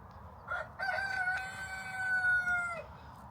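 Hens and a rooster in a coop at bedtime, giving one drawn-out, fairly faint crowing or calling vocalization of about two seconds over a low, steady background murmur, with no one talking.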